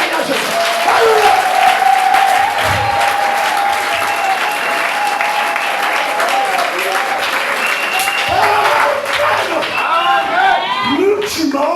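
A church congregation bursts into loud, sustained applause and acclamation, dense clapping mixed with shouting voices and cries of praise that carry on strongly throughout.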